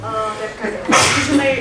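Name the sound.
sneeze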